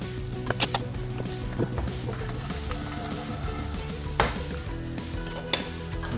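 Black pudding slices frying in butter in a pan, a steady close sizzle with occasional sharp clicks and clatters of a utensil against the pan.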